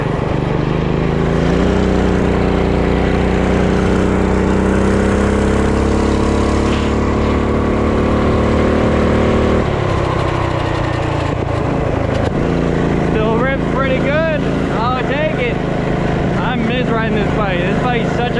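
Offroad drag minibike engine revving hard from a standstill takeoff, a loud continuous buzzing roar that climbs in pitch, with people talking over it near the end.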